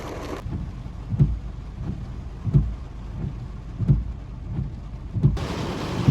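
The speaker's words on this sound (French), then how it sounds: "c'est la pluie qui tombe à torrent" Torrential rain pours during a strong September 2024 thunderstorm in Indre-et-Loire, a steady dense hiss broken by regular muffled thumps roughly every second, close and moderately loud, with no one speaking.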